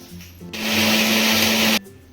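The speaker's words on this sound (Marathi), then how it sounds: "आता आपण याच्यात थोडं पाणी घालून वाटणार आहे." A mixer grinder whirs loudly for roughly a second and a quarter as it grinds salt, chili, cumin and asafoetida with a little water. It starts and stops abruptly, and a faint hum sits before and after it.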